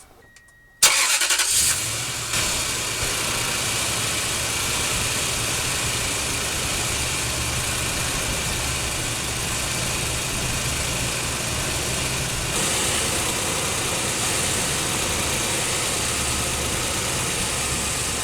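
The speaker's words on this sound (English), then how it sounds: "I'm going to turn on the truck" A 2000-2006 Toyota Tundra pickup engine cranks and catches about a second in, then settles into a steady, even idle that runs loud and close for the rest of the clip, with no talking.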